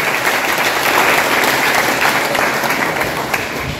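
A crowd at an honor ceremony applauds a committee, dense, loud and close clapping from many hands that runs steadily throughout before easing slightly at the end.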